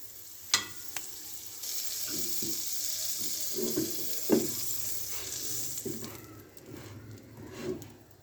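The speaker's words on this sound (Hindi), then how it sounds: "जी, तो ये दूसरी साइड से भी अच्छे से शैलो फ्राई हो चुका है" A Lays potato-chip sandwich shallow fries in butter in a pan, a steady soft sizzle running throughout with a few scraping and tapping sounds of the spatula on top; no one speaks.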